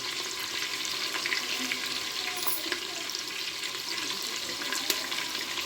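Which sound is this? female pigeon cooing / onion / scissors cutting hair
onion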